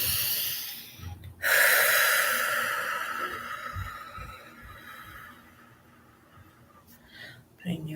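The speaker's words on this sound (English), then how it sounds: "Taking a big breath." A big breath taken during a Reiki clearing: a long, loud, breathy inhale that starts abruptly and slowly fades over several seconds, followed by a quieter exhale, close to the mic.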